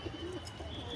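Domestic pigeons coo softly in a short, faint burst, a low, throaty call set against quiet background noise.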